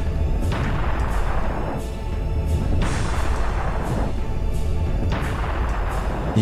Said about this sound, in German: Kanone!